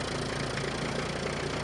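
Isuzu Elf truck diesel engine idling steadily right after a starter replacement, a close, even mechanical rumble with a slight knock running throughout and no one talking.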